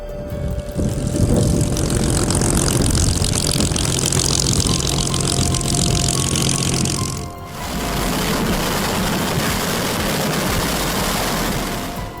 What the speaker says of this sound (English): Spitfire engines start up, shooting flames like a dragon waking up